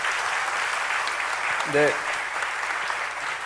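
Applause from an audience at a gathering in Yeonggwang. Sustained, even clapping runs through the whole clip, and someone briefly speaks over it midway.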